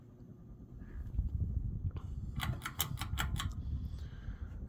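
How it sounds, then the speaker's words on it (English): A 52-inch Kmart S.M.C. KF-52 ceiling fan with a balancing fault runs quietly with a low hum, and a short series of rhythmic clicking knocks from its wobble sounds partway through. "Fan does wobble. Seems like possibly a balancing issue afoot there."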